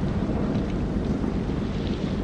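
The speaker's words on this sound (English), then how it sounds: "Find out how long the storm is gonna last." Video game storm at sea, a dense steady wash of rain, wind and low thunder rumble, moderately loud and unbroken for a couple of seconds.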